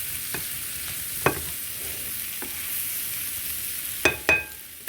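Mushrooms fry in a pan with a steady, bright sizzle throughout, broken by a few sharp clinks and scrapes of a utensil stirring, close and clear with no talking.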